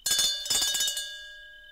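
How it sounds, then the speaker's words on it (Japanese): A call bell rings from upstairs as a sound effect in a Japanese audiobook reading of H.G. Wells's The Invisible Man: two quick bright metallic strikes with a clear ringing tone that decays slowly into silence. "突然鳴った2階からの呼び鈴はそこにいた人々の肝を潰しました"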